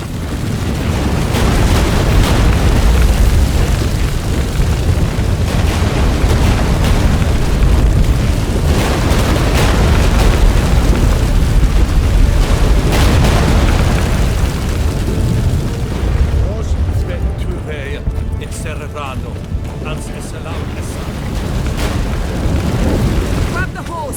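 An earthquake in the video game The Witcher 3: a deep, continuous rumbling roar with booming crashes goes on at length, loud and dense, while voices speak over it at times.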